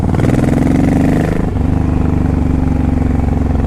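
Honda VTX 1800 motorcycle cruising in fourth gear around 35 mph, its big V-twin giving a loud, steady, close throbbing rumble that dips slightly in pitch partway through, with no talking.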